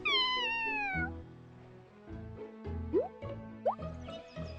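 A cat meows with a long, loud, falling cry at the start, then plays nearby with soft thuds, plops and short rising squeaky tones, no talking.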